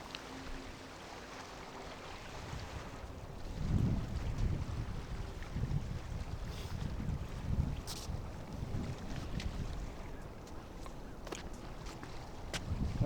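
Wind gusts while bank fishing for catfish during a cold front, producing a steady, loud rushing roar and buffeting microphone noise that swells midway and keeps up to the end, with no talking.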